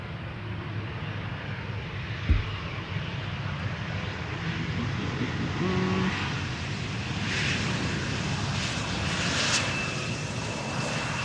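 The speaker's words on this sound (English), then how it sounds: "this is KLM Flight 1352, Embraer 175, arriving from Prague." A KLM Embraer 175 jet arriving from Prague at Schiphol's Polderbaan runway gives off a steady, fairly loud engine drone that holds for several seconds and swells slightly as it passes, with no voices.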